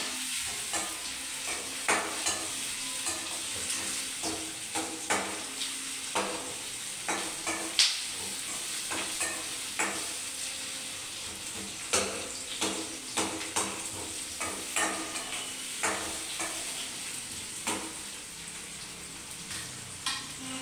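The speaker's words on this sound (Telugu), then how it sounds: "ఇది గోల్డ్ కలర్ వచ్చినాక కొంచెం ఫ్రై చేసుకోవాలి." Chicken pieces fry in a pan, turning golden, with a steady broadband sizzle and repeated spoon scrapes and stirring clicks through the whole stretch, close and moderately loud, with no talking.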